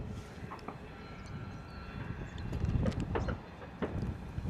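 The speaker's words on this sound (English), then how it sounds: "Lovely noise coming from our DHL A300." A DHL Airbus A300 at London Luton Airport in wet, windy weather gives off a low, distant engine rumble that swells slightly midway, faint against the background.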